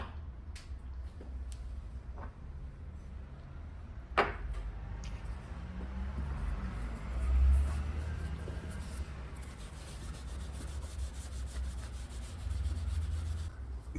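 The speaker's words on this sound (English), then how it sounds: "Wrap the polishing cloth tightly around your fingers, like this." A cloth wrapped around the fingers rubs a genuine leather shoe to a mirror shine, a continuous soft swishing friction at close range with a few light taps and knocks, no voices.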